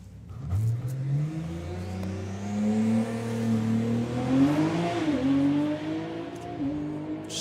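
A 4-cylinder doorslammer drag racing car launches down the strip at a drag racing finals, its engine revving hard and rising in pitch, loud and close with no talk.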